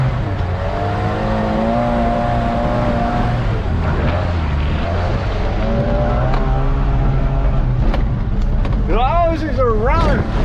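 An abandoned Mitsubishi-made Dodge Ram 50 truck, left sitting for over a decade, runs with a steady rumbling engine close by while someone talks over it, with a brief whistle-like rising sound near the end.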